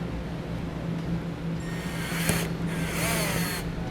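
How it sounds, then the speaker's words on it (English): A power drill with a small bit bores a pilot hole into plastic while a backup camera is fitted to a 2011 Chevrolet, whirring steadily and close by for a few seconds with a brief catch midway. "I'm going to be starting out with a small drill bit for a pilot hole."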